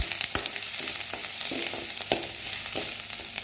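Turkey berries fry in hot oil with curry leaves, giving a close, continuous sizzle punctuated by sharp crackles and pops and a few spoon scrapes against the pan.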